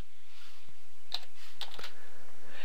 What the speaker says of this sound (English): I'm going to type in the term COD.